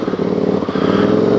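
A Can-Am Spyder RS engine pulls steadily under acceleration, a close, continuous mid-pitched drone that grows slightly louder over a brief moment.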